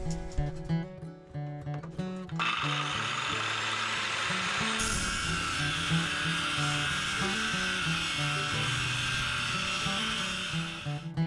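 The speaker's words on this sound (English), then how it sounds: "I'm going to go ahead and get set up, angle grinder, whack it off" An angle grinder cuts through a chunk of steel for forging an 18th-century-style English axe, starting with uneven bursts and then settling into a loud, steady, harsh whine that runs close and continuous to the end.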